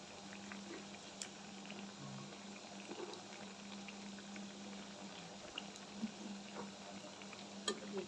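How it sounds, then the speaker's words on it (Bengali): Pitha frying in oil in a pan: a faint, continuous low bubbling and gentle crackle with occasional soft pops, quiet and steady throughout, with no talking. "এখন উল্টায় পাল্টায় ভালো করে ভেজে নিব, লাল লাল করে।"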